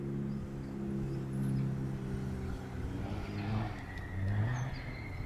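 A Suzuki Swift nicknamed the Gonosz Swift drives through traffic, its steady engine drone rising and falling with throttle over continuous road and surrounding traffic noise, no voices heard.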